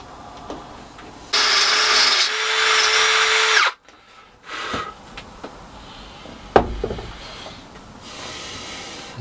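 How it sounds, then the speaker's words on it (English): A power drill whirs loudly for a couple of seconds, drilling a hole in the side of a casing, stops, then clicks and clatters follow in a quiet room. "I'm just going to drill a hole in the side of the casing"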